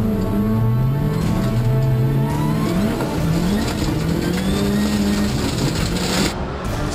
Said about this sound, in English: Cars dive off the banking into a narrow opening through the dirt section.